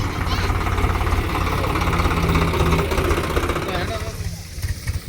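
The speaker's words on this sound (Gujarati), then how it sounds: "અમારે ટ્રેક્ટર આવી ગયું છે હમણાં" A tractor engine runs close by in a village, giving a loud, steady, continuous rumble that throbs with an even knocking beat.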